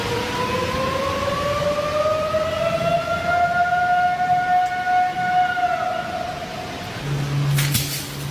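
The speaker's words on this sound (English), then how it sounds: "So we're going to watch that one more time, just for that initial scream." Alleged Bigfoot scream in outdoor recorded footage: a long, loud, siren-like wail that rises and holds for several seconds before trailing off over a rumbling background.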